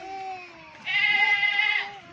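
Goats bleat on a goat farm, a long wavering cry rising loud in the middle of the clip over a fainter bleat at the start, close by with no talk.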